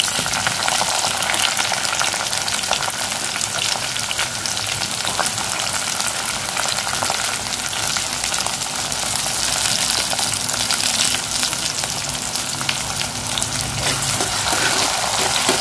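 Tomato and softened onions fry in a pan, producing a steady, dense sizzling hiss that holds at an even level throughout with no pauses.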